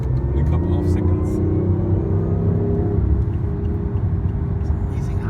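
A BMW i8 on a top-speed run along the Autobahn near Leipzig in 2016 gives a loud, droning engine growl with rising tones, backed by heavy road rumble.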